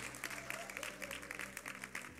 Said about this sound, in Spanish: Denle un aplauso fuerte al actor.